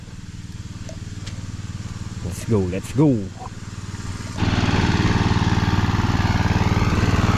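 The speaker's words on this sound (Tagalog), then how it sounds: "Tara, magpatay na tayo ng makina." A small engine machine runs with a steady, droning hum; a voice calls out briefly over it, then the engine grows noticeably louder and keeps running to the end.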